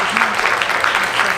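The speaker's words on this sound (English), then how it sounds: "So just by a round of applause" An audience claps in a dense, continuous round of applause, close and fairly loud, filling the whole short moment with steady rattling hand claps.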